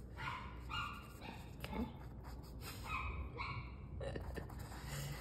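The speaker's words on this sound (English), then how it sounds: "Dog is really playing with its toy." A mixed-breed black dog yips and barks in short, excited bursts while playing with a toy nearby indoors, with a brief spoken word in between.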